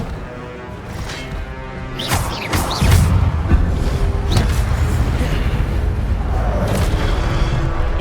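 The Incendio fire spell cast in Hogwarts Legacy: a loud whooshing burst with a heavy boom, followed by a steady roaring rumble, alone without talk.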